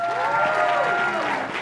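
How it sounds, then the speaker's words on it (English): An audience applauds live at a show, a brief, dense burst of clapping close and loud with some crowd murmur. "please give a huge VoiceQuest Live round of applause to the amazing, magnificent Amelia."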